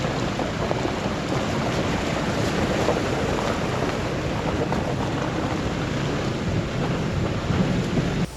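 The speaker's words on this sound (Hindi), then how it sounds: "ये देखो जी, कितना बड़ा झरना है और कहाँ से आ रहा है, ऊपर से आ रहा है।" A large mountain waterfall fed by melting snow roars as a dense, steady rush of falling water, loud and unbroken throughout with no speech heard.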